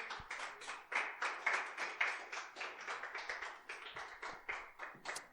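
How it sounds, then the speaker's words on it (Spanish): A church congregation claps in a quick, rhythmic beat, sharp individual hand claps repeating steadily at moderate volume in a fairly quiet room. "Dele un aplauso al Señor, amén."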